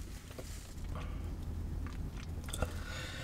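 Someone bites and chews a Burger King Big Fish sandwich with pickles and lettuce, producing soft close crunching and squishy mastication over a steady low background, with no talk.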